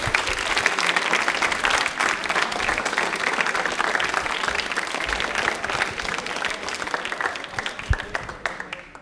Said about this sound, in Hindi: ताले एक बार जोरदार हो जाए।